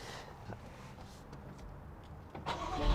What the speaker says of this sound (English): Let me get you guys a little cold start